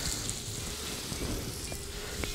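Red, green and yellow bell peppers sautéing in a plough-disc pan: a steady, dense sizzle that stays even throughout, with faint stirring scrapes, no voices.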